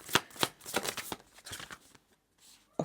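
Divine feminine oracle cards are shuffled by hand in a few quick riffling bursts, crisp papery flutters close to the microphone, then a short pause before one last flick.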